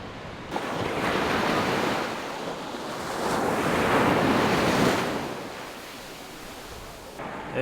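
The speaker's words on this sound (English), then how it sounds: "look at these waves" Ocean waves crash on the beach at Puerto Escondido, Oaxaca, Mexico, a steady broadband roar that swells and fades, with wind buffeting the microphone and no speech.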